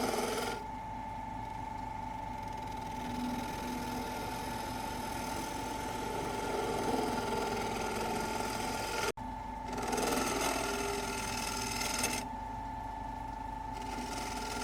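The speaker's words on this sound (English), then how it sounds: "Turn in the center of the bowl with a spindle gouge." Spindle gouge turning the center of a square oak bowl with a glued block on a wood lathe, a steady close motor whir with a scraping hiss of the cut, briefly interrupted midway.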